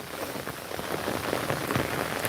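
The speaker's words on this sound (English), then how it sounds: "Why is it raining sideways?" Steady rain patters densely on surfaces outdoors, a continuous close hiss of drops with no voices.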